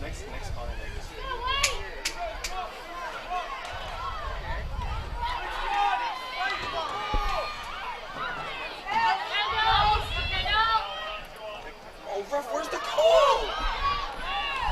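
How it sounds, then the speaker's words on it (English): Restless crowd at a Darien versus New Canaan varsity girls soccer match, a continuous murmur of many voices with occasional shouts and cheers rising and falling, heard from a distance with whistle-like calls and nearby chatter. "Crowd's getting a bit restless here."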